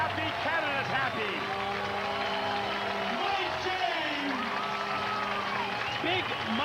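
A stadium crowd in Toronto cheers and applauds after Canada scores a try against the USA in a 2002 rugby match, a loud steady roar throughout with a commentator talking over it.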